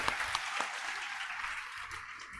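Audience clapping steadily for a Bihar police sub-inspector candidate, a dense, moderately close burst of applause lasting a few seconds with no talk over it.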